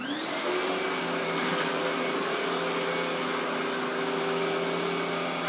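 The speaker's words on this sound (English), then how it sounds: "vacuuming with the Kenmore vacuum." A Kenmore vacuum cleaner runs steadily nearby, a loud continuous motor whine with a faint rising pitch as it spins up, and no talking.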